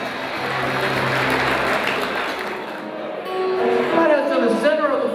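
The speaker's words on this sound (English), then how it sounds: "largest round of applause, folks" Applause from a crowd at a dance event, a steady wash of clapping under an announcer's amplified voice, which swells slightly toward the end.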